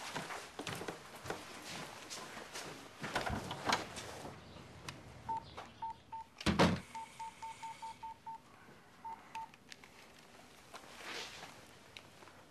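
A telephone keypad is dialed to place a call: a quick run of about a dozen short, evenly pitched DTMF beeps in small bursts, with a brief clunk partway through and faint room noise around them, no talking.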